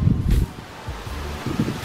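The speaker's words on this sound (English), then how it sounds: "it's really windy out here" Wind gusts through an old historic graveyard in North Carolina, a low rumbling buffet against the microphone that swells loudly at the start, eases to a steady murmur, then surges again near the end.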